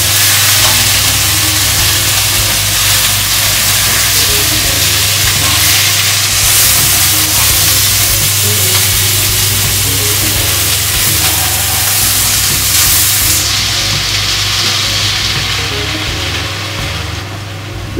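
Meatballs frying in tomato sauce are stirred in a pan, giving a steady close sizzle and bubbling hiss that holds evenly throughout, with a faint low hum underneath and no voices.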